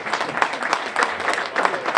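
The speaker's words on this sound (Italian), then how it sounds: "Propongo un applauso per isso." Brief applause from an audience at a Sardinian tenore singing performance, with uneven, fairly close clapping that rises and falls in small bursts.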